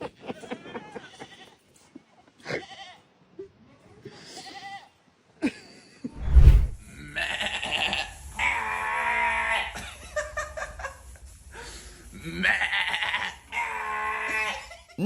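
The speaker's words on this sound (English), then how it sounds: "Not your average sheep." A sheep bleats loudly in a couple of drawn-out, wavering calls on a farm, close by, with rustling and other noise between the cries.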